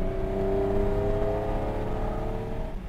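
A Fiat Dino engine revs steadily and loudly, its harmonic tones holding nearly level for about three seconds with no voices over it.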